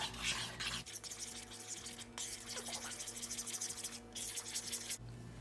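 Strawberry glaze for mochi donuts being mixed in a bowl, giving a steady, close scraping and swishing stir that runs on without pause.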